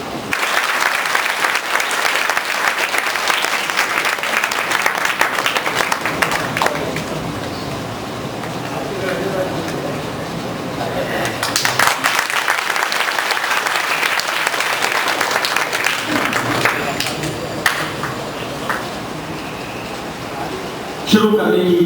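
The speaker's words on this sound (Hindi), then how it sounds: "राहबर के लिए आप लोग जोरदार तालियों से स्वागत उनका जरूर करिएगा।" Audience at a district conference in Shahjahanpur giving loud, sustained applause, a dense wash of clapping that continues for about twenty seconds with slight swells and dips.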